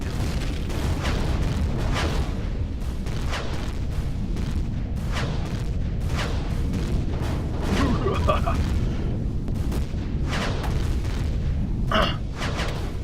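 Explosions and booming weapon fire in the Empyrion space-survival video game as a target is shot down, repeated heavy bursts over a constant rumble, with talking underneath.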